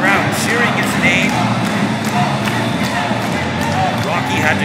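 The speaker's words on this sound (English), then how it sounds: "Crowd cheering his name." At a wrestling show, a crowd chants and cheers a wrestler's name in loud, rhythmic bursts, with thumps and a busy hubbub filling the hall throughout.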